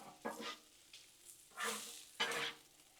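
Bacon and sausage sizzle on a Blackstone griddle while a spatula stirs and chops, with three or four quick scraping bursts standing out over a quiet, steady frying hiss up close.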